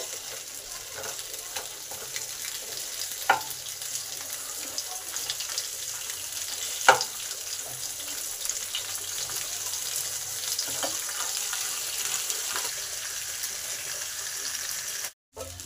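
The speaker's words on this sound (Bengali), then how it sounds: "মাছগুলো লাল লাল করে উল্টে পাল্টে ভেজে নিতে হবে।" Fish sizzling in hot oil with a constant hiss, occasional sharp clinks of a utensil, and a sudden cutoff right at the end.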